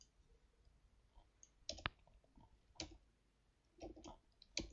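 Faint, sparse computer keyboard key presses during 3D modeling work, a handful of separate quiet clicks spread out with pauses between them.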